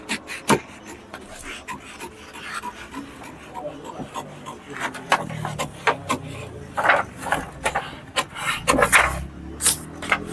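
Scissors cut through blouse fabric in a series of close, crisp snips and rubbing scrapes that grow busier and louder toward the end.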